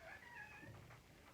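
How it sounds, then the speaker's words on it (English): A house cat meows faintly in the background, one soft, wavering cry that fades out over low room noise, with no talking during it. "my cat is meowing, sorry."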